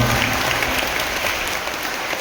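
A church congregation at a Saint Anthony Tuesday novena claps in praise of God, producing loud, dense, sustained applause that slowly eases off.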